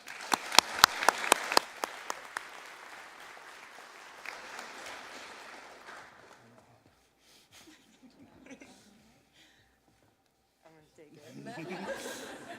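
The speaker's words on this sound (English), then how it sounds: "we just want to applaud you for that" Audience applause at a senior honors night, a loud burst of clapping with a few sharp claps that fades into scattered chuckles and murmuring, then swells again briefly near the end.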